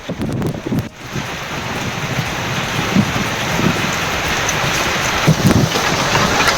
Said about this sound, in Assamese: গোলাঘাটৰ তীব্ৰ ৰূপত বৰষুণ দিয়াৰ দৃশ্য দেখা পোৱা গৈছে